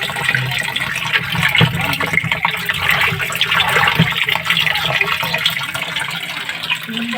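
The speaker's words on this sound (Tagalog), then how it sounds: "Ngayon maglalagay na tayo ngayon ng tubig para mag-testing." Water pouring steadily into a washing machine tub after a clogged drain repair, a continuous rushing and splashing fill heard close up with a faint voice at times.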